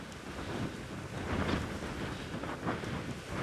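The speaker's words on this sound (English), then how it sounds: "It's windy." Wind gusts outdoors among tall grasses near a fence, a loud, rushing roar buffeting the microphone that swells and eases over a few seconds, with no voices.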